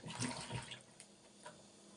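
Flat beans being washed in water, a short splashing and sloshing burst followed by quieter dripping and faint trickles, close and moderately soft.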